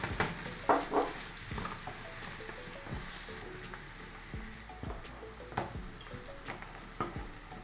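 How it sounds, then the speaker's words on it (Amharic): Two heads of chopped onion frying in hot oil in a pan, a steady sizzle with occasional louder spoon stirs and scrapes. "ዘይቴ ሲግል እዚህ ጋር ሁለት ራስ ሽንኩርት የከተፍኩት አለ"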